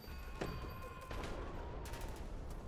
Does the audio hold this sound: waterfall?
no